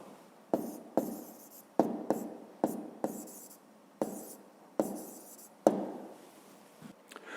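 A pen writes by hand in short bursts during a seventh-grade physics exercise. About ten quick, close scratching strokes come in an uneven rhythm, each starting with a sharp attack, with no talk.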